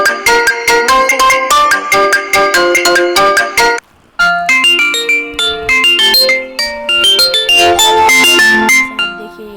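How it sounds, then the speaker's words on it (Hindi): A Mi phone ringtone plays loud and close, a bright melodic tune of quick plucked notes that drops out for a brief gap midway, then resumes with a new phrase. "मतलब इन सब रिंगटोन में कुछ अलग है।"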